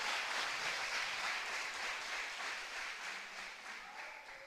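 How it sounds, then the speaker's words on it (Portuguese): A church congregation claps and applauds steadily, a dense wash of hands that slowly fades over a few seconds, with no talking over it. "Dê um forte aplauso"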